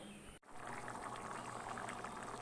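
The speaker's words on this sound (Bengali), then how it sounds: "দেখুন ফুটে উঠেছে ডালটা" A pot of chana dal boiling on the stove, a steady soft bubbling and simmering texture that continues evenly after a brief dip near the start.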